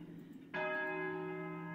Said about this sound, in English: Still the clock chimed the quarters,